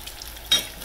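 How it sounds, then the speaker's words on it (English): Apple fritter batter sizzles in hot frying oil with a soft constant crackle, then a sudden louder burst of spitting near the end. "They're really frying up pretty."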